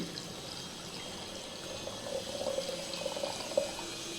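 Water from a home borewell, steeped with clearing nuts and gooseberry wood, is poured into a container in a soft, brief trickling stream that is faint and close, with no talk.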